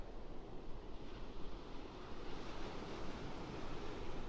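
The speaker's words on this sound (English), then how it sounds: "We do have a northeast wind still. It's not near as strong as it has been the last 2 days." A northeast wind buffets the microphone over continuous roaring surf on the south end of a beach at Pawleys, a dense, steady rush without any voices.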